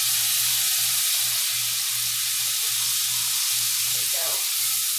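Garlic sizzles steadily in browned butter in a pan, a loud, even frying hiss with faint stirring movements and no talking.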